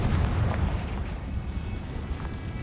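The Confringo fire spell in the Hogwarts Legacy video game bursts into a loud, rumbling explosion that rolls on steadily without letting up.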